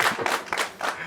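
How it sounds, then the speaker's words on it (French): Audience applause in a televised town-hall style discussion in Bohicon, with claps in short bursts and swells, fairly close and moderately loud over about a second. "je vous laisse vous applaudir pour votre participation"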